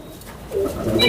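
A domestic pigeon coos softly in a low, brief murmur, close by and with no one talking.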